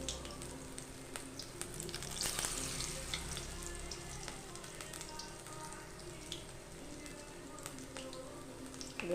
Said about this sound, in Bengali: সরষার তেলেই ভাজছি